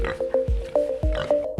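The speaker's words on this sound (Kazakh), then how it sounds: "Торай қорсылдайды." A piglet gives a quick run of short, clipped grunts in an even rhythm, six or so in under two seconds, close and clear.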